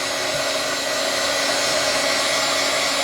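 Heat gun drying a glitter-coated art background: a steady, close, loud blowing whir with constant airflow hiss and no pauses.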